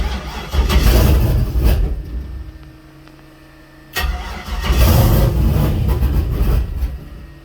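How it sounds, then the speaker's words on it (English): A small Nissan with a rough-running engine is cranked and catches twice, with loud close bursts of engine noise and a quieter lull between them. "let's see if we can get this thing fired up"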